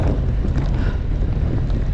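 Loud, continuous wind roars and buffets against the microphone while cycling uphill, a dense low rumble with no voices or distinct events.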